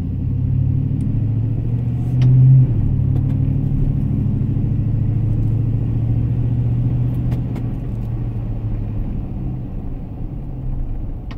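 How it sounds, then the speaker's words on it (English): A car engine idling by itself with a low, steady rumble that swells slightly as the revs creep up, then settles a little lower near the end. "the RPM is going up right now, and I'm not touching anything"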